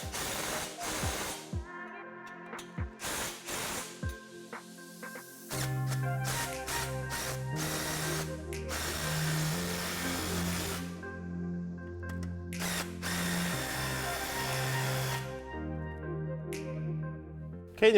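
Hand tools tightening stainless steel MagnaFlow 2.5-inch turn-down exhaust clamps on a 1986-2004 Ford Mustang, with bursts of ratcheting clicks and metallic scraping, steady and close, sometimes broken by short pauses.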